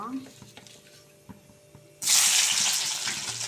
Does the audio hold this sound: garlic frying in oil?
yes